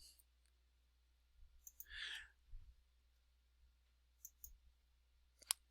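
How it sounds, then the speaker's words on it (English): A computer mouse clicked at a desk, a few sharp, faint clicks scattered across a quiet room, with soft breathing and low background hum between them. "Let me do a right click on this guy"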